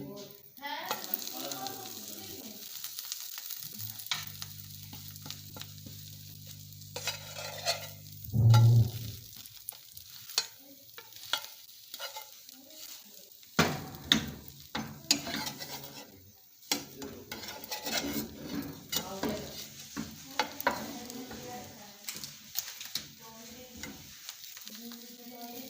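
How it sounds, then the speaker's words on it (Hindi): Bread slices sizzle steadily in a greased pan for a chicken sandwich, a continuous close frying hiss with occasional scrapes and clinks of utensils, and a brief low hum partway through. "ब्रेड के स्लाइस हम गरम कर लेंगे इसमें"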